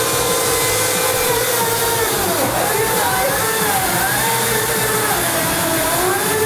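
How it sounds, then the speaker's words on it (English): A loud, steady chainsaw engine drone with a rising and falling whine as the saw bites into hard ice, continuous throughout. "We're going in with the chainsaw."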